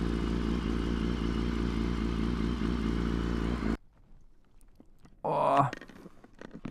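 BMW HP4 Race motorcycle ridden, its engine a loud, steady, dense roar for nearly four seconds before cutting off abruptly, followed by a short rising rev burst.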